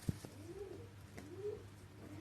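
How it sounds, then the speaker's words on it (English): A baby pigeon making soft cooing calls while being hand-fed, two gentle rising coos about a second apart, faint and close, with a brief sharp click near the start. "Continue this until you feed your pigeon completely."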